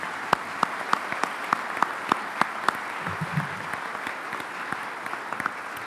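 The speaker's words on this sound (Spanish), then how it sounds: "pido un fuerte aplauso para la profesora Sanguinetti, para la profesora Marta Canessa" Audience applause at a commemorative event honoring professors Sanguinetti and Marta Canessa: steady, moderately distant clapping from a crowd with a few sharp, distinct claps standing out in a regular pattern, no talking over it.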